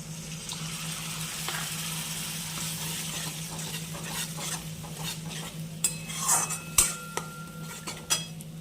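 Spices fry in a pan while yogurt is stirred in, a steady low sizzle under scraping stirs and a few sharp clinks of a utensil against the pan toward the end, with no talking.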